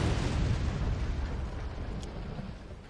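Missiles blast against a fort in the video game Forts, a loud, deep rumbling explosion that slowly fades over a few seconds.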